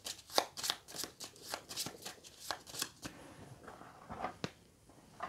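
Game cards for the board game Vicomtes du Royaume de l'Ouest being shuffled by hand during setup, a close series of quick riffling bursts in an irregular rhythm, fairly quiet.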